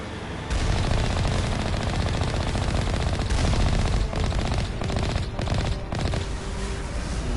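Rapid automatic turret gunfire from an enemy emplacement in Mass Effect 1, a dense, loud, sustained burst of shots running almost continuously with no talking.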